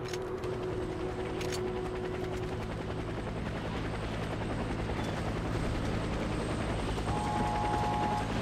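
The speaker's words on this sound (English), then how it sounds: "Get to the helicopter for extraction." A helicopter in the video game Warface arrives for extraction with a loud, continuous rotor thrum and engine whine that hold steady throughout, with no talking.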